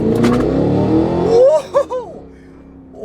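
A Cadillac Escalade V ESV is switched into V mode and accelerates, its engine rising loud and close in a rapid rev climb with quick gear-change dips before settling, with brief voices heard early on.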